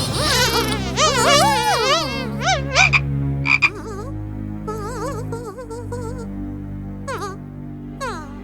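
Frogs croak loudly and repeatedly in rippling, overlapping calls, with a dense chorus early on that thins to scattered croaks, heard up close against a steady low background hum.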